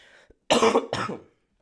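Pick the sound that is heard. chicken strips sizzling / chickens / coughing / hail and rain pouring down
coughing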